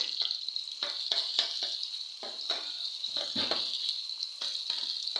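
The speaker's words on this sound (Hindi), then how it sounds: "प्याज को ज़रा हम सौते कर लें" Onions sautéing in a pan for chicken tikka handi, a bright continuous sizzle punctuated by repeated stirring strokes and scrapes, close and fairly even throughout.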